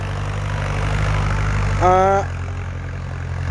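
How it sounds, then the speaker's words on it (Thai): A Ford tractor engine runs at a steady low drone during daily contract plowing work in a rice field, with a brief tonal sound rising over the rumble partway through. "รถไถฟอร์ด"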